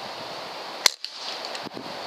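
A single sharp crack from a Umarex Gauntlet .22 PCP air rifle fired while hunting iguanas outdoors, short and fairly close, with a second fainter knock shortly after over a steady background hiss.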